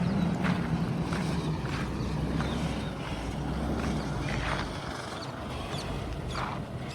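A tipper truck pulling away on a road, a steady low engine drone with a faint higher whine throughout, continuous and moderately distant with light background noise.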